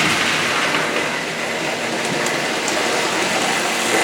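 A Lionel 1665 toy locomotive runs along its track with a steady, close mechanical rumble and continuous clattering rail noise, loud and even throughout with no voices.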